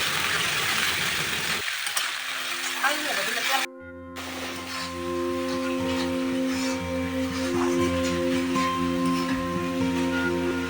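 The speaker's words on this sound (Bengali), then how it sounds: "এখন মশলাটাকে ভালোভাবে কষিয়ে নেব" Ground onion, ginger, chili and tomato spice paste frying in oil for a pabda fish curry, with steady sizzling and stirring plus a low mechanical hum, broken by a brief silent gap near the start.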